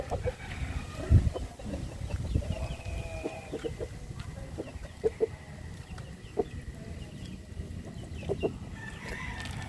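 Backyard chickens cluck and peck at feed nearby, with soft repeated clucks and occasional louder calls over a steady farmyard background, no talking.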